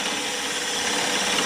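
A drill bit cuts steadily into stainless steel for a knife blank, the bit lubricated with oil, giving a continuous close grinding whir at even loudness with no voices.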